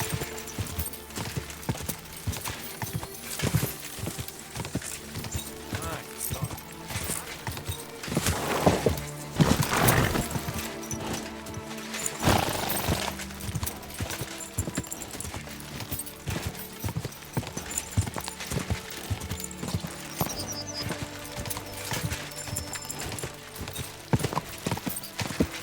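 Horse hooves clip-clop in a steady rhythmic gait in the video game Kingdom Come: Deliverance II, with background music-like tones and a few louder crashes along the way.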